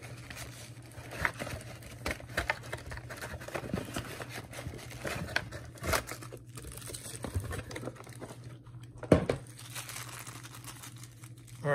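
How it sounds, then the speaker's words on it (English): Keys for a Taurus 605 Poly Protector .357 Magnum revolver's lock being pulled out of their packaging, giving quiet crinkling and rustling with a few soft clicks, close by, with no one talking. "Let's get the keys out."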